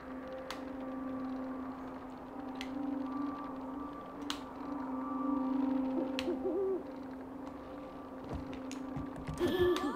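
An owl hooting in the video game Never Alone, a steady low tonal call held over quiet game ambience, with a few soft clicks and a brief clatter near the end.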